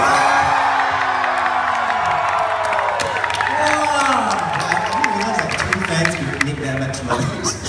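A large crowd of concert fans screams and cheers loudly and continuously, with whoops and shouts rising and falling throughout.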